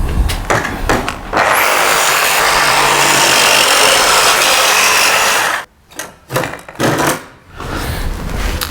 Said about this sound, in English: how you can cut it with a jigsaw